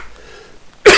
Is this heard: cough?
yes